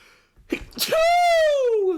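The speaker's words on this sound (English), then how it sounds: "I'm sneezing out all my problematic parts of me." A single sharp sneeze up close, followed by a rising then falling vocal sound from the same person.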